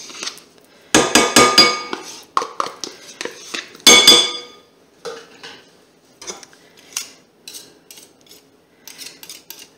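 A metal spoon scrapes and clinks against a bowl while mascarpone goes into a speculoos tiramisu, loud close knocks at first and then lighter taps and clatters, with no talking.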